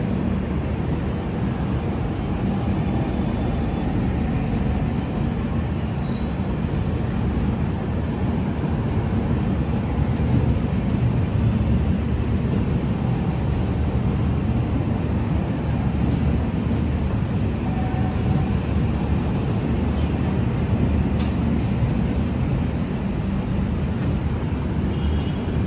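The Shalimar–Okha Superfast Express, running with new LHB coaches, rolls past in a loud, unbroken rumble of wheels and rushing air that holds steady for the full length without a break.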